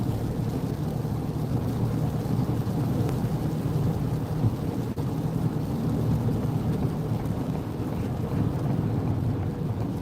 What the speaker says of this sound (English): It's raining so hard you can't even see the mountain